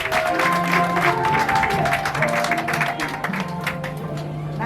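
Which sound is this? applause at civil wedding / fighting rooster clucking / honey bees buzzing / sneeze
applause at civil wedding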